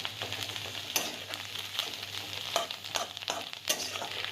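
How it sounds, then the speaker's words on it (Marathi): Bharanga, a wild leafy vegetable, frying with onion over a low flame: a steady close sizzle with scattered crackles and occasional stirring scrapes, no voices. "भाजी भाजायला सात ते आठ मिनिट लागतात मंद आचेवर भाजी चांगली भाजून घ्यायची"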